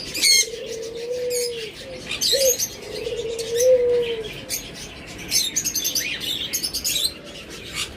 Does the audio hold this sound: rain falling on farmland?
no